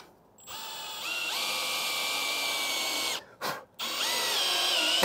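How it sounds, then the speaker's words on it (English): A power drill with a special Torx countersinking bit bores into deck boards for hidden screws, whining steadily in two long sustained runs broken by a brief pause, loud and close with no talk. "Got this special bit that's gonna countersink it the right amount."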